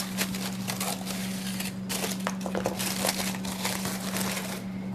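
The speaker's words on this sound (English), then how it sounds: "just peel paper off." Baking paper being peeled off an unbaked cake in a nonstick springform pan, a run of close crinkling and crackling bursts with brief pauses, quiet and alone.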